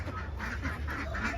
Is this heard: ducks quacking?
yes